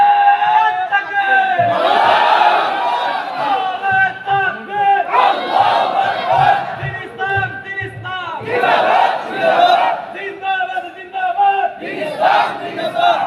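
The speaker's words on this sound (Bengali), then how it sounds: "জোরে একজনে তাকবীর দেন তো মাঝখান থেকে" A large crowd at a Bangla waz gathering shouts takbir (Allahu Akbar) in unison, several loud surging waves of massed voices rising and falling, close and echoing, with an amplified voice between calls.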